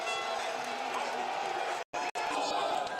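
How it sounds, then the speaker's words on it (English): Spectators roar at the 2023 UCI Cyclocross World Championship men's elite race on its final lap, a broad, sustained crowd din under a commentator's talking, with a brief dropout near the end. "hear the crowd"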